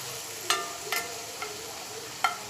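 Stirring vankaya chikudikaya curry (eggplant and broad beans) in a pot: four short, sharp scraping clacks of a spoon against the metal, spaced irregularly over a faint steady background, with no talking.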